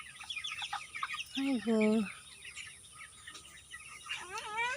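Broiler chickens kept on a small home farm cluck and squawk, with a loud drawn-out call in the middle and further calls near the end over a low background murmur.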